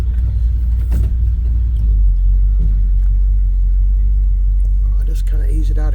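A Chevy C10 pickup truck's engine runs at a steady idle, giving a deep, loud, close rumble that holds evenly throughout with a slight rough pulse and a few minor clunks near the end.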